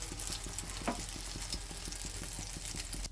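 Beaten egg for an omelette fries in hot oil in a pan, a steady close sizzle with fine crackling and a faint regular ticking underneath, no talking.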